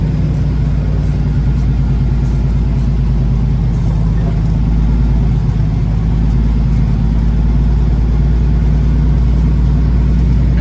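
An owner-operator's truck engine rumbles loudly and continuously while backing into a driveway, a dense, steady low drone with no talk.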